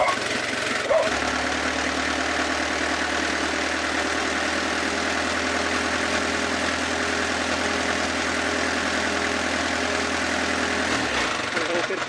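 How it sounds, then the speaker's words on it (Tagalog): A car engine runs steadily at raised revs for about eleven seconds, a constant loud hum with a low droning tone, then drops off sharply near the end. "ngayon i rev natin"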